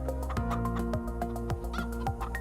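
Chickens clucking in the farming game Farming Simulator 22, a close flock giving repeated short clucks and squawks in a loose rhythm over a steady low background hum.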